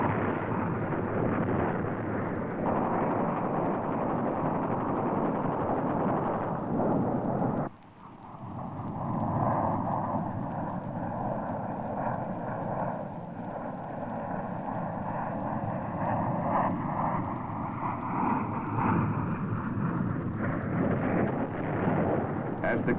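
Fighter aircraft strike the jungle during the Vietnam War in 1967, with a steady loud roar of engines and explosions. A low rumbling blast follows, and a jet sweeps past with a falling whine.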